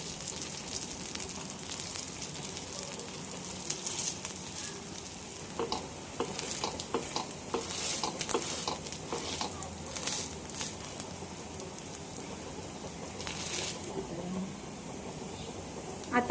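Sabudana appe balls dropped into hot oil in an appe pan, a continuous sizzle with crackling bursts and light spattering that swell and settle over several seconds, no voices.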